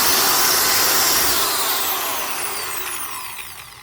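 A Black & Decker 7-amp 1/2-inch drill runs steadily on its own, its big wide cooling fan pushing a loud, broad rush of airflow that slowly tapers as the motor winds down.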